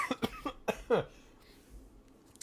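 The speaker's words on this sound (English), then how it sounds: "cough directly into the microphone" A few close, sharp coughs in quick succession, followed by a quieter throat-clearing and near silence.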